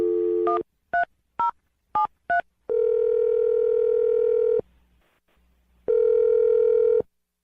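A landline dial tone hums steadily, then a quick run of about six touch-tone digit beeps is keyed in, followed by a ringback pattern of two long tones separated by a pause, clear and close with no talking.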